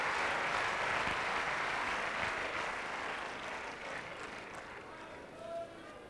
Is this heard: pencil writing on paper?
no